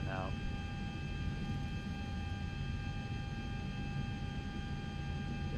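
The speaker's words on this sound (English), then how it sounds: "Just so many cool planes going in and out." Jet airliners at John Wayne International Airport in X-Plane 11 give a steady, low engine rumble with a sustained whine, continuous and fairly distant under faint background noise.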